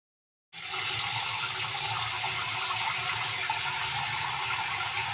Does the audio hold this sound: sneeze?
no